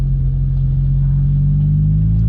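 A manual car pulling away in first gear, a loud, steady low engine rumble that rises slightly in pitch as it gathers speed, heard from inside the cabin, no talking.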